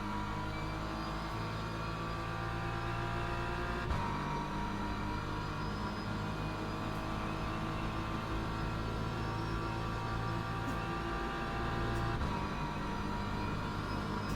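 A BMW M4 GT3 race car in Le Mans Ultimate at Monza holds a steady, loud engine drone that stays even throughout, with one brief shift in tone partway through.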